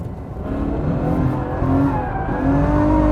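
A Ferrari F12 engine pulls hard in fourth gear, a loud, close, rising roar with climbing pitch and a brief tyre-squeal edge, heard from inside the car with no talking.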